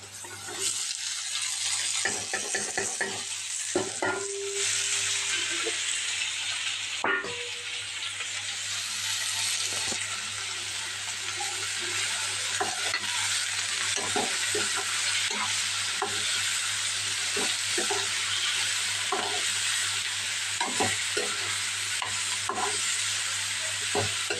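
Onion, tomato and cucumber pieces fry in oil with a steady close sizzle, while a spoon scrapes and stirs the pan in repeated short strokes; one louder clank comes early on.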